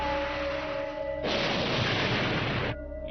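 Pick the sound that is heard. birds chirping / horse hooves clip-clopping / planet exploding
planet exploding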